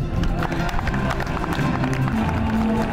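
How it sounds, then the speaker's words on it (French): Dense crowd noise at a youth football tournament award ceremony for Olympique de Marseille, steady loud clapping and cheering mixed with a hubbub of voices. "on va les applaudir très fort aussi, l'Olympique de Marseille"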